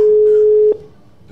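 A steady telephone ringback tone on an outgoing call sounds clearly for under a second, then cuts off, leaving faint room noise.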